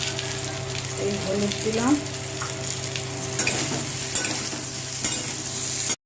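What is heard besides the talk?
spices frying in oil with cardamom, bay leaf and cumin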